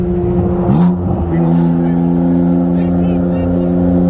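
A 2016 BMW M4 with E85 and water/meth injection and a 2017 Nissan GT-R on E85 accelerate hard side by side in a roll race, a steady loud engine drone with rising harmonics and a brief gear-change dip near the start.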